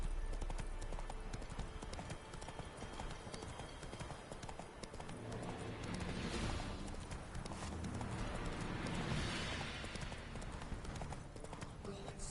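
Roach, the horse in The Witcher 3, gallops on in-game hooves with a fast, steady clip-clop rhythm under a dense, noisy game mix, faint throughout.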